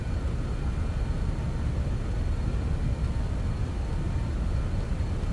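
A BAE 146 freighter jet rolls for takeoff, heard from the cockpit as a constant loud broadband roar of engines and runway rumble, with no talk.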